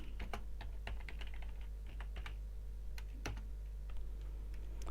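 Someone types a word into a LibreOffice Calc spreadsheet cell on a computer keyboard, giving steady, close-up key clicks in a quick irregular rhythm with a sharper keystroke near the end, alone and without talk.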